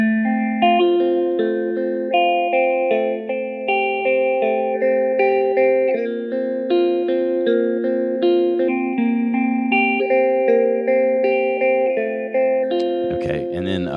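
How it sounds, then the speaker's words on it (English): An Intensive Care Audio Recovery Phase guitar pedal chops sustained guitar chords into rapid rhythmic slices at a deep setting, steady pulsing throughout, ending in a short noisy burst. "if I go a little deeper, you can hear just how much that's slicing it up here"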